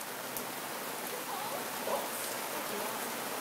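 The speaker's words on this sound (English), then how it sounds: "it is pouring rain" Heavy rain pouring down outdoors at a backyard swimming pool in Livermore, California, a dense, steady hiss of drops hitting water and surfaces, continuous and even with no speech over it.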